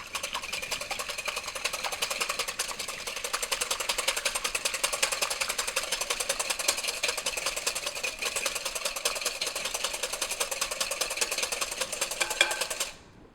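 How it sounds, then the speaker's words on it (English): A wire whisk beats eggs in a bowl for baking, a fast, steady metallic clicking and ticking that runs evenly throughout and then stops abruptly at the end. "I'm just going to whisk the eggs to break them up and then to get a little air into them."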